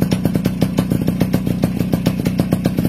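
A Tomos 50 moped with a classic A35 engine runs in the street close by, giving a rapid, regular popping beat with rattly clatter and no talking over it.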